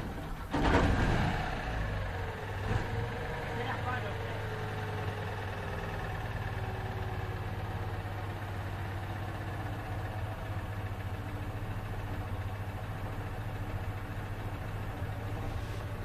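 A Citroën 2CV engine idles steadily after a loud starting burst, settling into an even low throbbing hum that continues unchanged for the rest of the stretch.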